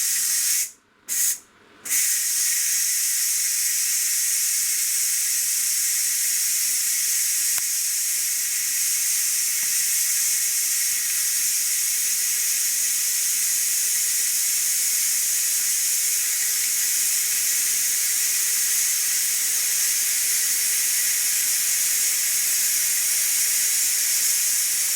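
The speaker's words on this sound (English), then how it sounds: "what I'm going to do now is vent it, get all the steam out of it" Steam vents from a Ninja Foodi Max 7.5 litre pressure cooker as its release valve is opened, a loud, steady hiss that continues unbroken after a couple of brief sputters at the start.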